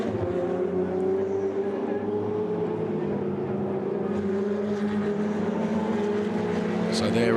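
Ferrari Challenge race cars racing at the Budapest circuit, a loud continuous engine roar with shifting pitch as cars pass, heard from trackside with a broadcast commentator's voice faint underneath.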